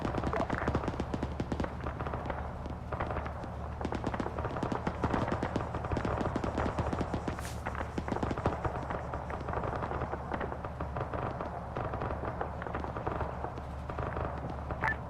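Heavy .50 caliber machine gun fire in the ARMA 3 military game rolls on without a break, a dense, loud, continuous rattle of rapid shots layered over battle noise.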